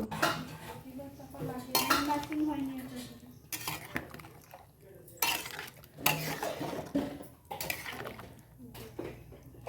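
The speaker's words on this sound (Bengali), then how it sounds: "খুন্তির সাহায্যে একটু নেড়ে দিব" A metal spatula stirs hilsa fish in mustard sauce in a pan, giving repeated close scraping and clinking bursts against the cookware with brief pauses between strokes.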